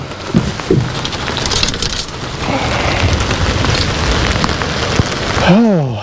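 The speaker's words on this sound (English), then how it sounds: "it's raining again." Steady rain patters and hisses across the whole stretch, with scattered sharp drips and a brief rising and falling tone near the end.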